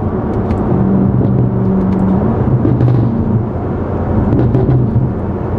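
A 2023 BMW M5 Competition cruising on the road, its exhaust giving a low, loud rumbling burble with uneven pops and crackles, heard steadily from inside the car.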